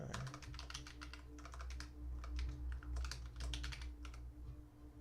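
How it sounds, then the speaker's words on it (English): Clicky computer keyboard typed in quick bursts of crisp key clacks with short pauses between runs, close up over a low steady hum. "I have a very clicky keyboard"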